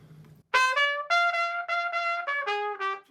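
Trumpet playing a jazz phrase of separated, detached notes with short gaps of silence between them, bright and close, no talking.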